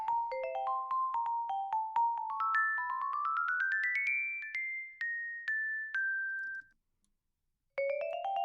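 Muted vibraphone notes with sustain in a game boss-battle music mix, a rising then falling run of bright ringing tones, a brief silence, then the pattern resumes; no voices.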